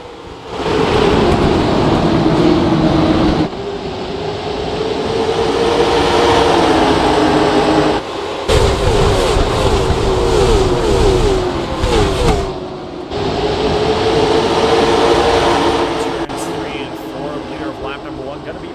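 Late model race cars from a racing video game, set at New Smyrna, roar off together at the start of a race, with a loud, steady engine drone that shifts in pitch and dips briefly at times. A commentator talks over it throughout.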